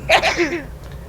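A single sharp human sneeze, close and loud, a quick burst with a voiced tail, followed by quiet room tone.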